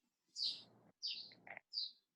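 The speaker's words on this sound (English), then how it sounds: "And there is a sound of birds also." Small birds chirping behind an online class, three short bright tweets with brief pauses between them, soft and slightly distant, no talking over them.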